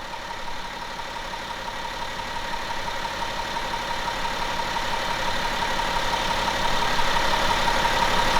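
A warmed-up BMW X5 35d with the M57N2 diesel engine idles steadily, a close, even diesel drone with a faint rhythmic clatter that grows slightly louder over several seconds, with no voices.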